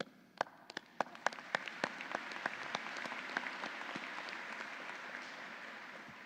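Scattered claps open a convocation applause at a university ceremony, quickly swelling into soft, steady clapping from a large audience heard at a distance.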